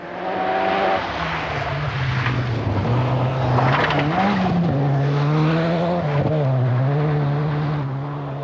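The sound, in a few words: rally car driven fast on loose forest surface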